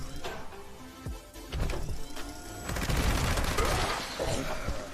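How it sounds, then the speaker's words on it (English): The Gauss minigun fires in Fallout 76, a rapid, dense stream of mechanical shots that builds and grows louder through the second half amid other game sounds. "Let's go use the Gauss minigun."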